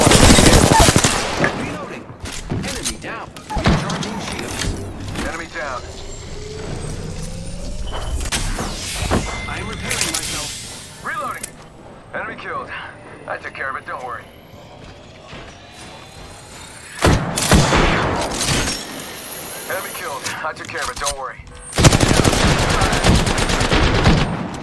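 Enemy gunfire in a shooter video game rattles in loud automatic bursts and scattered shots, with mechanical clanks and sliding sounds between volleys and heavier fire near the end.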